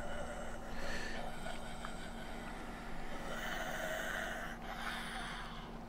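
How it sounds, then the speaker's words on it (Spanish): Zombie creatures in the video game 7 Days to Die breathing and snorting faintly, with raspy, drawn-out gasps repeating over a low, steady background hum. "Solo escuchando los pasitos, la respiración de los bichos estos."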